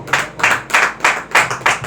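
An audience at a church sermon claps loudly in unison, six strong rhythmic beats evenly spaced, close and clear with no talk over them.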